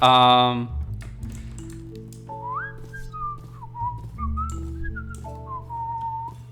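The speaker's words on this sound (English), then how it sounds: "I just realized I whistled right into the microphone" A person whistles a wavering, tuneful melody close into the microphone, the rising and falling notes carrying over low background music from a Minecraft dinosaur park build, with a brief louder burst at the start.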